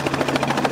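Robinson R44 helicopter rotor chop played back from a recording, a steady rhythmic thumping at moderate loudness with no talk over it.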